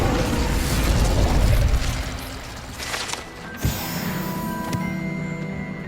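In Hogwarts Legacy, an Incendio fire spell goes off with a loud whooshing burst and a sharp crack, followed by a fading ringing tail of game effects.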